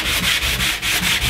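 Sandpaper of P120 grit rubbed by hand over a plywood panel with a raised grain after a water-based finish, close and loud, in quick regular back-and-forth strokes, about six in just over a second.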